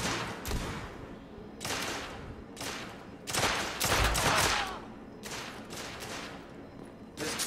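Repeated bursts of gunfire from a rough, unreliable firearm in the game The Order: 1886, with several loud volleys separated by short gaps and crackling tails.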